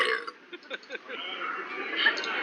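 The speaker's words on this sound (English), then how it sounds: "Let's go with that burp again. I like that burp." A comic burp sound effect played over cheerful tavern music during a tabletop game session, with a few short belching bursts early on, fairly quiet.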